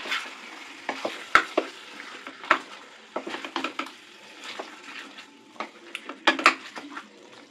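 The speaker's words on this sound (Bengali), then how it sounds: "এটাকে অল্প আঁচে একদম লো ফ্লেমে দইটা দিয়ে কষাচ্ছি" Chicken is stir-fried with sour yogurt in a pan over a very low flame, with a soft continuous sizzle and irregular scraping and knocking of a spoon against the pan.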